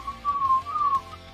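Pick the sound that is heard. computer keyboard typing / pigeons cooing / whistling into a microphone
whistling into a microphone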